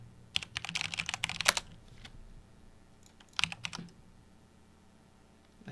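Typing on a computer keyboard while editing webpack and TypeScript config files, in two quick bursts of close key clatter separated by a pause, with no talking.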